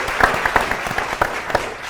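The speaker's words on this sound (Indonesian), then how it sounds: "Oke, tepuk tangan dulu." A small quiz show studio audience applauds, scattered claps in a steady patter over a room murmur, brief and moderately loud.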